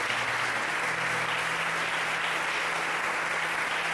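A church congregation bursts into sustained applause, a dense, even wash of many hands clapping at moderate distance for several seconds without pause.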